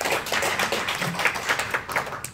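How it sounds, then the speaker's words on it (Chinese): Warm applause from members at a club meeting, a dense patter of many hands clapping steadily and fairly close throughout. "我们给他一个热烈掌声吧"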